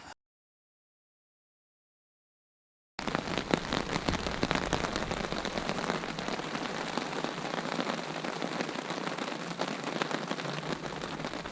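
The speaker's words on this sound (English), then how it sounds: "Well, the rain finally hit" Rain falls steadily on a tent at a campsite in bear country. After a few seconds of silence, a dense, even patter of drops on the fabric starts suddenly and keeps going at a constant level.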